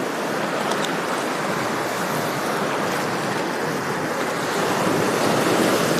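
Sea waves roll and wash ashore at Kappil Beach in Kollam, where backwater meets the sea, a loud continuous surf roar with wind buffeting the microphone.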